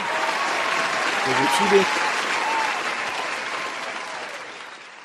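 A crowd applauds, a dense steady wash of many hands clapping that swells slightly and then slowly tapers, with a brief voice heard under it.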